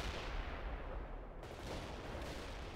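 Missile launch and gunfire in the World in Conflict Soviet Assault battle, a loud, dense barrage of rapid shots and blasts running continuously with a brief shift in the middle.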